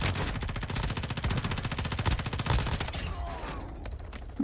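Rapid, sustained automatic gunfire from a Warzone Mobile match played on a 30fps phone: a dense, continuous burst of shots with a few louder cracks near the end.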